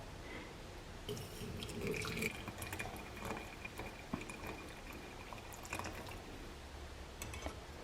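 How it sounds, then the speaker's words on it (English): Hot but not boiling water poured from a kettle over tea herbs, a faint trickling and splashing stream with scattered drips, quiet and close. "Now I'm gonna add about 16 ounces of hot but not boiling water from my kettle."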